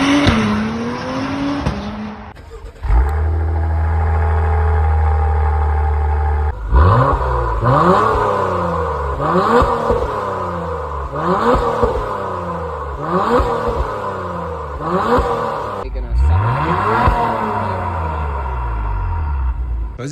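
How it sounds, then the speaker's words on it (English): Stock exhaust on an Acura TLX Type S revving loudly and up close: a steady idle rumble, then a held high-rpm rev, followed by a string of about five sharp blips, each rising and falling back. "Here is my stock exhaust."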